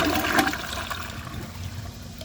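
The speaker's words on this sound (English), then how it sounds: "So I'm going to hold the handle and empty the rest of the tank." A Mansfield Summit toilet flushes with its handle held down to empty the tank, rushing water up close settling into a steady draining gurgle.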